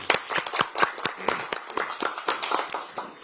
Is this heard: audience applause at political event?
yes